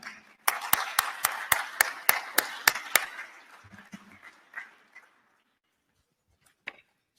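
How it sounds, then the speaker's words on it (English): Audience at a real estate awards event claps in a sharp, regular burst of about ten distinct handclaps, close and loud, then fades into scattered light clapping and quiet, with one last clap near the end. "join me for a round of applause"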